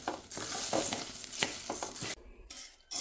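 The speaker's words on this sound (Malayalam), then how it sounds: "കഴുകിയെടുത്തിട്ട് അരിച്ചിട്ട് നമുക്കിങ്ങനെ ഒന്ന് വറുത്തെടുക്കാം" Washed horse gram is dry-roasted in a pan, stirred with a utensil that scrapes and rattles the grains in quick, uneven strokes, with faint sizzling close to the microphone and a short pause near the end.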